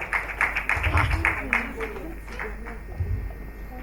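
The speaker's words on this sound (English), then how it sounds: "Round of applause for them." At the 2021 CAHR Awards Ceremony, an audience claps for an award winner in a short burst of scattered, fairly close claps that thins out, with a voice talking over it.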